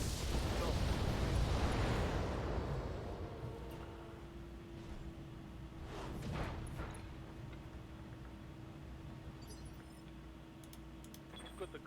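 Mech weapons in the BattleTech video game unleash a loud, broad blast that rumbles and fades over several seconds, followed by a smaller burst and a lingering hum, with a voice talking over it.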